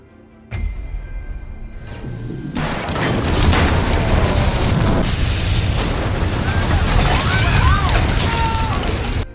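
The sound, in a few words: movie explosion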